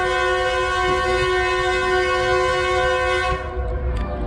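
A train horn blares with a long, steady, harmonic tone up close at a station on the China–Mongolia route, cutting off near the end as rumbling engine noise from old Soviet-era trains continues underneath.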